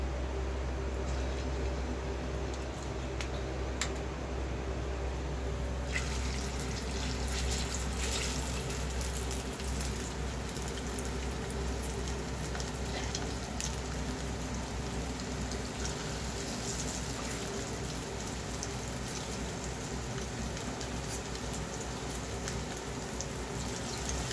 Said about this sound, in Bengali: তেলটা গরম হয়ে গেছে, এবার আমি চিকেনগুলো ওর মধ্যে দিয়ে ভেজে নিই